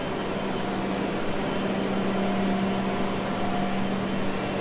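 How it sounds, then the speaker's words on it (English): An HP R2000 latex printer runs in a print shop with a steady mechanical hum and whir, fan-like and constant, with no talk. "Our newest machine that we put in is an R2000. This is a latex printer."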